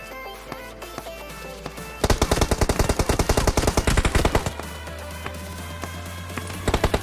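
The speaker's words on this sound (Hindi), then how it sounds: "मुझे बैक से फायर आई, ठीक है, बढ़िया कवर फायर आया है इन बंदों का।" Gunfire in the PUBG Mobile video game: rapid automatic bursts crackle loudly for about two seconds. Quieter game sounds follow, then another short burst near the end.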